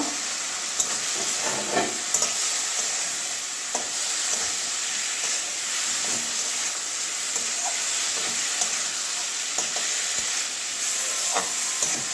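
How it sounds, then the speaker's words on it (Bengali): Fried potatoes and bitter gourd stirred into a cooked spice paste in a pan. A steady sizzle of hot oil runs throughout, with soft scraping and clinks of the spoon scattered across it. "এবারে ভেজে রাখা আলু উচ্ছেটা দিয়ে দেব"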